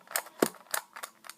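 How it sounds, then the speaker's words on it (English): A Skewb X-treme twisty puzzle gives off sharp, dry clicks as it is turned: about five crisp ticks in an uneven rhythm, close and fairly quiet, with no voice. "when you turn it, it sort of has like this clicking noise."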